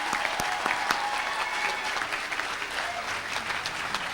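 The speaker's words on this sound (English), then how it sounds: "Please join me in giving a big round of applause to all the doctoral degree recipients." Sustained audience applause at a university public policy commencement ceremony for doctoral degree recipients, a dense, even wash of clapping from a large crowd in a hall.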